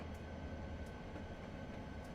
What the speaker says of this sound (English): Sound of a bridge.